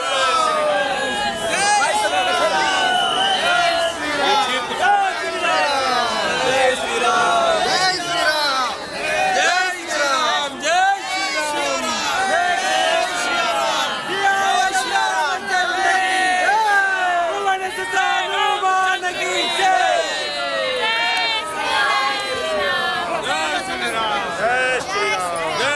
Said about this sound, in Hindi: अयोध्या में भी ये बेकाबू भीड़ आपको दिखाई दे रही है